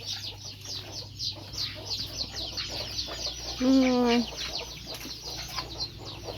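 Chickens cluck around a farmyard, with one louder, drawn-out call standing out briefly in the middle over a steady murmur of fowl and background hum.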